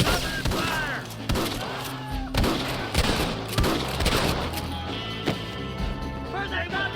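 Gunfight in Red Dead Redemption on PS5: repeated loud close gunshots in an irregular rhythm with heavy impacts and echoes, voices shouting between the shots.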